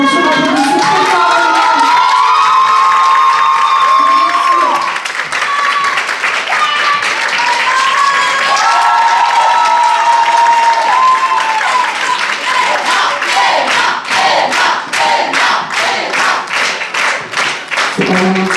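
A crowd at the Forma Show 2025 breaks into loud, sustained applause and cheering, with clapping that grows sharper and more rhythmic toward the end while voices carry over it.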